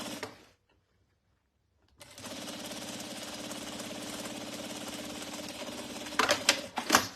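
A sewing machine stitching a crossbody bag falls silent briefly, then runs in a steady rapid close chatter before a few louder clunks of backstitching at the end.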